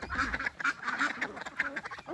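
Welsh Harlequin ducklings and adult ducks quacking close by in a paddock, a busy overlapping chorus of short nasal calls with no pauses.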